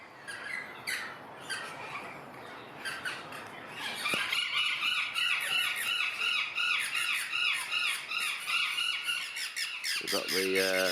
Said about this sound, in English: There's lots of noise over here by all the exotic birds.